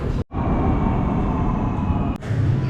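A Ningbo Metro Line 7 subway train pulls into a platform in the evening, a loud, steady rumble and rush filling the station, briefly dropping out at the start before the roar continues close and constant.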